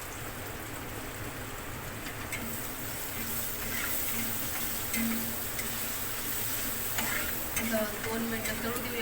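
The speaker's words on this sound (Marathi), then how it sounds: "तर 2 मिनिटं तळू देऊ याला." Onion greens frying with turmeric in a pan give off a steady, close sizzle with faint crackles and occasional stirring scrapes, continuous and moderately loud throughout.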